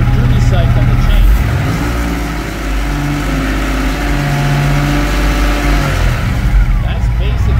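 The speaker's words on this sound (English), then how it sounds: "So I'm going to accelerate the engine and see if I can get the phaser duty cycle to change." GM Gen V V8 engine running close by, a loud steady idle whose pitch rises and falls briefly as the throttle is opened, with a person talking over the engine noise.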